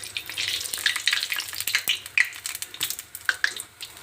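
Potato fritters (batata bhaji) frying in oil crackle and spit in quick irregular bursts, a moderately quiet, busy patter of pops close by.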